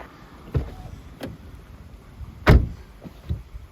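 Front door of a 2022 Peugeot 508 PSE shutting, a single solid thud with a couple of lighter clicks and rattles around it, close and fairly quiet against a hushed background.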